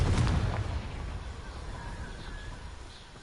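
A Confringo blasting curse explodes in Hogwarts Legacy, a single sharp booming burst at the start that decays into a fading rumble and crackle.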